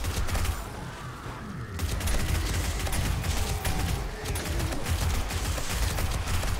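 Gunfire in the survival game 7 Days to Die, a dense, continuous rattle of rapid shots that runs through the whole stretch, loud and close, with a brief dip partway through.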